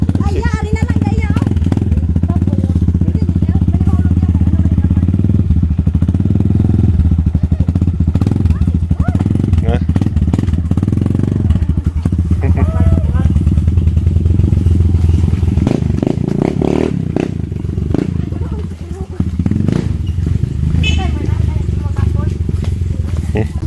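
A motorcycle engine drones steadily while riding up a hill in a remote Filipino village, loud and close, with rough rumbling and clattering over uneven ground and people talking over it.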